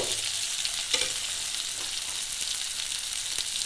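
Pieces of potato and papaya frying in a pan give a continuous bright, hissing sizzle, with occasional light taps and stirs against the pan.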